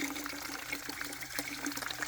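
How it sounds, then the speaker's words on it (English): Water poured into a container for ducks outdoors on a homestead, a steady broadband trickle and splash running for the full two seconds at moderate level with no talk. "So we're going to fill the rest up with water."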